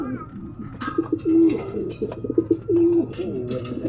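A racing pigeon coos near the loft after release: several low, rounded coos arrive in short bursts, close and fairly loud, over faint background voices and ambient noise.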